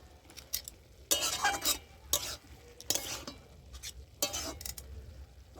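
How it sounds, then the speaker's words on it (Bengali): A spoon stirs a leafy greens and potato curry cooked without water in a pan, several distinct scraping strokes with metallic clinks over a soft background sizzle, close and moderately loud. "তো ঢাকনাটা খুলে আমি আবার একটু নেড়ে চেড়ে দিচ্ছি।"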